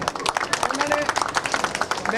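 Audience applause for actress Nirmal Rishi at the premiere of the Punjabi film Badnaam, a dense burst of rapid hand claps filling the short moment.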